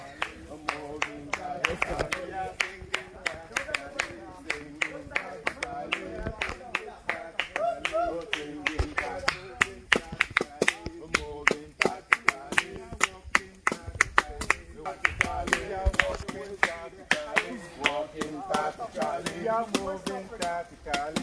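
Hands clap in a steady rhythm along to a marching song sung by police in Ghana's Volta region, sharp claps running throughout beneath voices singing and talking.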